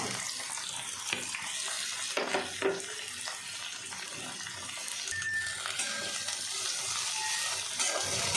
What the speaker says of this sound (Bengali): বাঁধাকপিটাও একটু ভেজে নেব, একটু নুন দিয়ে দেবো